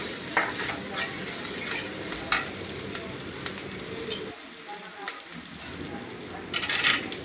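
Fried ingredients for a quick breakfast dish, just seasoned with salt, are stirred in a pan, giving steady sizzling with scraping and clinks throughout and a brief lull near the middle.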